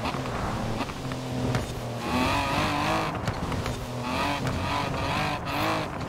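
Narrow-tyred Morgan Three Wheeler accelerating in the Forza Horizon 4 racing game, a steady engine drone that rises in pitch through the gears, mixed with tyre noise and game sounds throughout.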